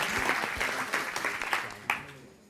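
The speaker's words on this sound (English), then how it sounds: "Let's give him a big round of applause." An audience applauds after an inspiring talk at the OECD Forum 2017, a burst of clapping that starts full and gradually fades within a few seconds.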